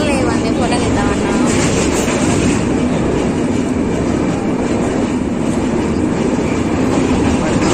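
Loud, continuous on-board roar of a passenger train travelling from Vijayawada railway station, with steady wheel rumble and faint rhythmic clatter over the rails, unbroken from start to finish.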